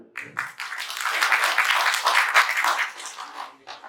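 A seminar audience at a business workshop claps together in a burst of applause lasting a few seconds, moderately loud, rising quickly and fading toward the end.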